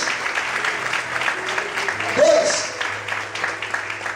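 A church congregation applauds during a Portuguese-language sermon, a sustained patter of clapping under a preacher's voice, with a brief louder swell in the middle.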